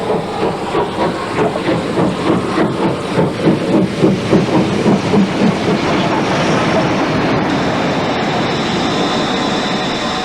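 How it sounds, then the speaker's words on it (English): A steam locomotive, a West Country Pacific, approaches on an up train with rhythmic chuffing and hissing steam, settling into a steady loud roar and rumble as it arrives nearby at Axminster station. "the next up train arriving behind a West Country Pacific"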